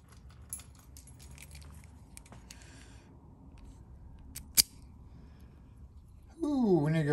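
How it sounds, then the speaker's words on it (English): A bunch of keys drops and jangles with a sharp metallic clatter during rekeying of a one-cylinder double-sided three-pin lock, followed by a louder sliding, rustling noise at the end. "keys fell down"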